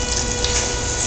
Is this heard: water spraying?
yes